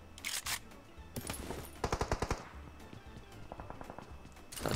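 Gunfire in the mobile battle royale game PUBG Mobile, heard as a quick burst of rapid cracking shots amid fainter game noise and a few scattered later pops; no talking.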